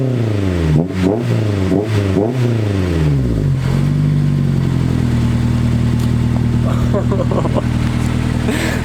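A Honda S2000 with a full stainless steel exhaust and PLM turndown muffler blips its engine in several sharp, loud rev bursts, then drops to a deep, steady, throaty idle that rumbles on close by.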